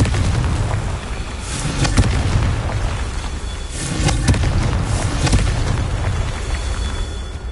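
Confringo fire blast spell in Hogwarts Legacy, loud continuous roaring bursts of explosive rumble with crackling swells around two and four seconds, no voices.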